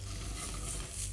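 Onion and garlic keep sautéing in olive oil, a dense, steady sizzle heard up close with no other sounds.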